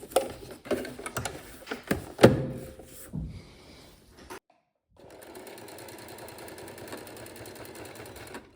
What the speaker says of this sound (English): my sewing machine